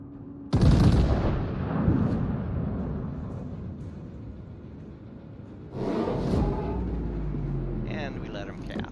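Secondary gun batteries firing in the naval combat game World of Warships, two heavy booming salvos a few seconds apart with long rumbling tails, someone talking over them.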